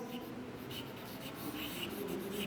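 A marker or chalk scratches out a word on a classroom board in short rubbing strokes, steady and close, over a faint room hum.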